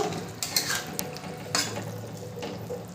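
Rui fish curry stirred in a pan over a low flame: a few faint, close scrapes and clinks of a utensil against the pan, spaced apart over a soft background hum.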